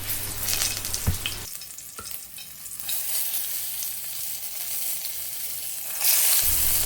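Brinjal pieces drop into hot coconut oil and fry with a loud, busy sizzle and crackle, with stirring and a few clinks, close up and without talk.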